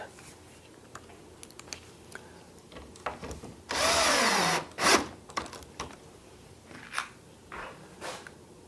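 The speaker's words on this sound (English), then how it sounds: "I developed this feel for drilling stuff" A power drill drives screws into wood, spinning up in one loud burst of about a second, winding down, surrounded by quieter clicks, handling noises, and brief fumbling.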